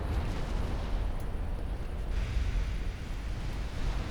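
A volley from warship naval guns in the Ultimate Admiral Dreadnoughts game rolls out as a dense, loud, continuous rumble of blasts with no pauses.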